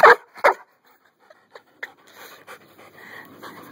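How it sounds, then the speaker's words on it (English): A dog playing fetch pants heavily and loudly at first, then gives soft, scattered whimpers and breathy huffs at close range. "Good dog."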